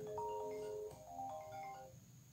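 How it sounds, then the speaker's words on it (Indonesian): A phone rings with an electronic tone for an incoming call on a handset already in a call, steady tonal notes for about two seconds, moderately loud, then fading with no talk. "terus kalian saya telepon HP yang lagi teleponan ini"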